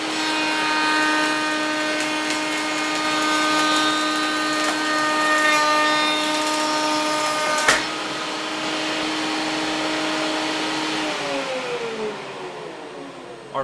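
A power tool cuts a rabbet along the inside edge of a wooden picture frame molding, a steady, loud whining drone that holds for over ten seconds, with a brief knock partway through before the pitch winds down near the end.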